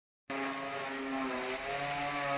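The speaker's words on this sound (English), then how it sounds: "Power tools. Look at that. Do not try this at home." Power tool suddenly starting and running at a steady high whine while fishing nets are being made, loud and close, with a slight dip in pitch midway.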